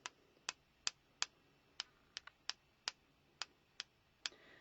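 Scissors tapped lightly to spatter dye-based ink for a craft technique, giving about a dozen crisp, dry metallic ticks at a fairly even pace, close and quiet against a still background.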